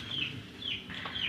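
Domestic country chickens in a rural village yard give repeated clucks at moderate distance, three short bursts spread across a brief stretch with steady background noise.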